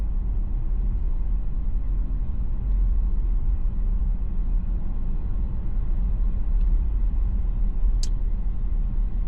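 A car drives on wet pavement through heavy rain, tires hissing over water in a steady, close, even wash with low road rumble underneath.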